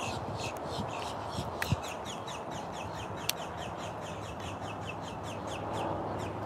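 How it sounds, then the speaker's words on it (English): Birds in a Florida Everglades swamp at sunset, near alligators, call continuously in a dense chorus of repeated chirps and caws, with a few sharp clicks over steady outdoor background noise. "Birds are going off."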